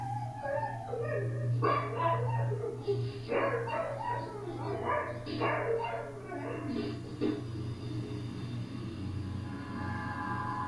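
A dog left home alone barks, yips and whimpers in a panicked burst of high, repeated yelps over a steady low indoor hum, then settles into quieter whines toward the end.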